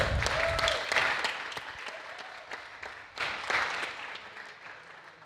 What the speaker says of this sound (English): A round of applause for your winners of the endurance